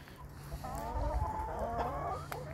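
Free-ranging chickens foraging among fallen violets and cherry debris in a garden, giving soft overlapping clucks and murmuring calls, close by and continuous with a faint outdoor background.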